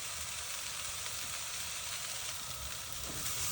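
Vegetables for vegan burger patties sizzle steadily in a pan after about fifteen minutes of sautéing, a constant close hiss of frying with faint stirring and no voices.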